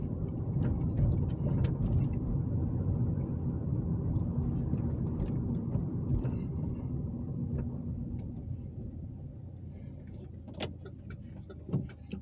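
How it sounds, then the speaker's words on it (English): Car driving through the town streets of Columbus, Indiana, a steady close rumble of engine and road noise that eases slightly near the end, with faint clicks and no speech. "Now, some of these areas I'm driving through, I know for a fact are not historic areas"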